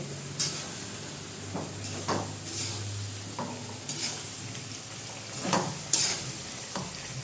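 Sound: tempering of tomatoes and chilies sizzling in oil

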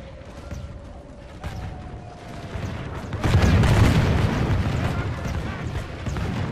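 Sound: cannons firing in a Total War mod video game

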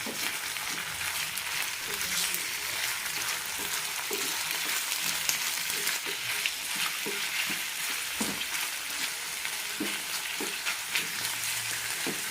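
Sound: chicken being stirred and frying in a pan

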